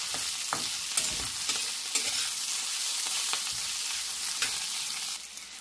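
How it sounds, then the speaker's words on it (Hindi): Spiny gourd (kantola) frying on high heat in a pan, a constant hiss of sizzling oil broken by regular scraping stirs and soft clicks, close and steady with no talking. "तेज आंच पे पकाएंगे।"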